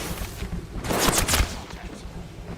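A short, fast burst of R-99 submachine gun fire in the Apex Legends video game, a rapid crackling volley of shots lasting about half a second amid faint background game noise.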